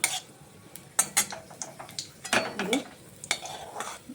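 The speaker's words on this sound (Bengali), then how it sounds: "আমি কিশমিশটা আর কাজুটা একটু ঘিয়ের মধ্যে ভেজে নিচ্ছি।" Raisins and cashews fry in ghee in a pan, stirred with a utensil that scrapes and clacks in quick irregular bursts over a soft sizzle, close and fairly loud.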